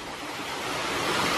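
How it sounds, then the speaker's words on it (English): Steady broadband rushing of a waterfall in a jungle-like garden at the Sanctuary of Truth in Pattaya, Thailand, a continuous loud wash of falling water with no voices. "Waterfalls and everything, look."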